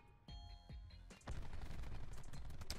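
Rapid gunfire on the Nuketown map in Black Ops 4, dense automatic bursts that start in short stutters and then run into a loud continuous volley close to the player.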